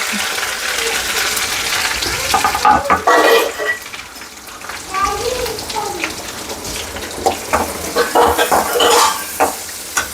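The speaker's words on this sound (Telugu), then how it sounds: "ఇవి బాగా వేయించుకోవాలి" Urad dal, mustard seeds, curry leaves and onion fry in oil for a prawn curry, with loud close scraping stirs and clinking of a spoon against the pan over a sizzle, in busy irregular bursts.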